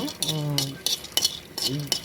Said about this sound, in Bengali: একটা কড়াইয়ের মধ্যে ভালো করে এলাচ, দারচিনি আর লবঙ্গ টেলে নিচ্ছি